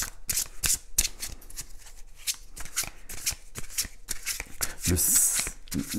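Playing cards shuffled by hand in a quick series of crisp riffles and snaps, close and clear, with a denser burst near the end and some speech in the background.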